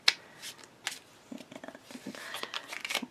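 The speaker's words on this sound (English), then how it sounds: "let's do a little bit of a shuffle" A deck of cards is shuffled by hand, with a series of soft, quick riffling bursts and rustles that are close and fairly quiet, and no talking.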